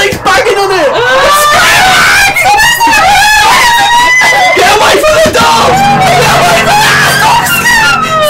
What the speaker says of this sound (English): someone's screaming help